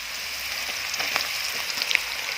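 Durian pieces fry in oil in a hot pan over a gas stove, steady sizzling with scattered sharp crackles and spits popping over the constant hiss.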